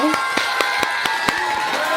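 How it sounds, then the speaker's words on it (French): Scattered claps and crowd noise from an audience applauding two sisters at a French talk show taping, with a steady wash of cheering and a few sharp hand claps standing out at close range. "on applaudit pour elles s'il vous plaît"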